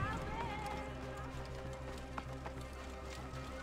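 Horse hooves in the game Assassin's Creed Origins: a steady, faint clip-clop of a ridden horse under a low rumbling bed, with a voice speaking over it.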